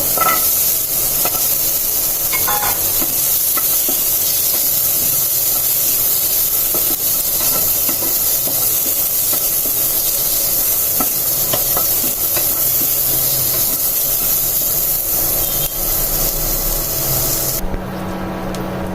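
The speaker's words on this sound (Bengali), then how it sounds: "পেঁয়াজ আর রসুনটাকে একটু হালকা ভেজে নিব" Onion and garlic fry in hot oil in a pan with a loud, continuous hissing sizzle and occasional stirring scrapes, which cut off abruptly near the end.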